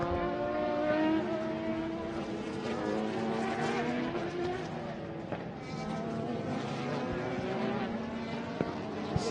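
Race cars on track during an ICCR circuit race, engines droning and shifting pitch as they pass, a continuous layered roar with a commentator talking over it.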